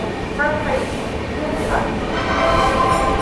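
A New Delhi–Patna special passenger train running fast while overtaking another train, giving a steady loud rumble and rattle with voices talking over it.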